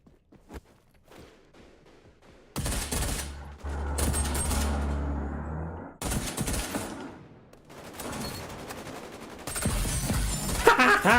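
Shooter video game gunfire comes in several loud bursts of rapid automatic shots separated by brief lulls, with scattered thuds and movement sounds between the volleys and no clear talk.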